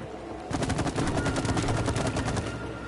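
Rapid gunfire in the video game It Takes Two, a steady burst of evenly spaced shots lasting about two seconds, loud and close with no talk over it.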